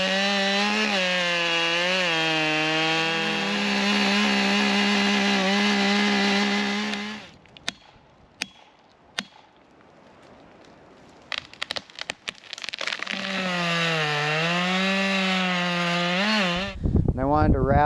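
A chainsaw bucks a felled dead red pine outdoors in a field. Its engine roars loudly and steadily for several seconds, drops to quiet clicks and rustling, then roars up again near the end.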